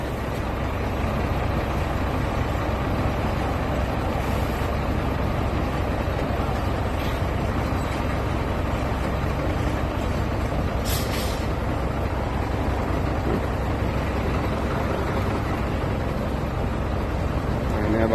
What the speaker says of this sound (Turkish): Tırlar doldu taştı buraya